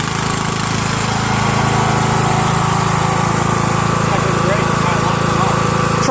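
Kawasaki 40cc two-cycle air-cooled backpack leaf blower engine running steadily at a constant, loud drone close by, with no pause throughout.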